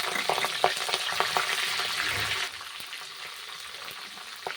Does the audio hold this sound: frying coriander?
yes